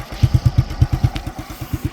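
Honda Super Cub clone motorcycle idling with an imported Japanese Cubby exhaust, a steady close putt-putt of rhythmic low pulses firing about eight times a second, slightly uneven.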